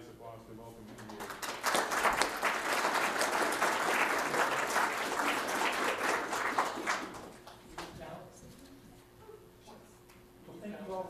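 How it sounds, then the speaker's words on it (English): A room full of people applauds to welcome the speaker at an astrophotography talk, building to a strong clatter of clapping that fades after about seven seconds, with voices speaking before and after. "let's turn it over to Scott and give him a nice applause to welcome him here."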